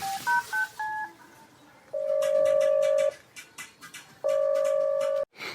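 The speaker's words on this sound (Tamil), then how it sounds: "என்ன சந்தோஷ் ஃபோன் எடுக்க மாட்டேக்காரு?" A phone call goes out: quick keypad dialing tones, then two long ringback tones with a pause between them, and no one picks up. The tones are clear and fairly loud over faint background noise.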